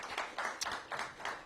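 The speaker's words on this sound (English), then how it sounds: "Give her a big round of applause." Audience clapping at a pre-K first-day celebration, a short burst of steady applause from a modest crowd, moderately distant and fairly quiet.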